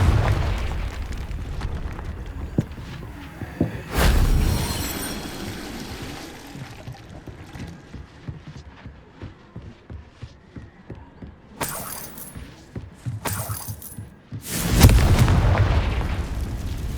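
Fiery explosions from the Confringo blasting spell in the video game Hogwarts Legacy: a booming blast early on, then several loud bursts near the end over a low rumbling background, with no talking.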